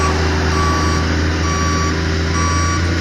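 Steady, evenly spaced electronic reversing beeps from a large truck working on a street to move a tree and broken sidewalk, sounding close and loud over a constant low engine rumble.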